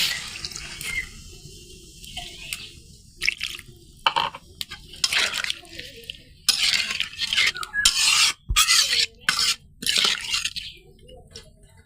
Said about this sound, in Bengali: এখন হালকা পরিমাণ পানি দেবো।